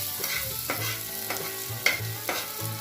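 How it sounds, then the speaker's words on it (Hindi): Onions for a Maggi noodle recipe fry loudly in a pan, a steady close sizzle broken by rhythmic scraping strokes of a spoon as they are stirred. "फिर हम इसमें प्याज डालेंगे, अच्छे से भूनने देंगे।"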